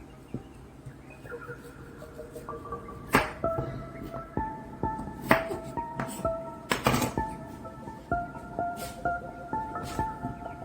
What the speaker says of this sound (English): I am going to take a knife and I am going to remove the top, both ends, and dispose of them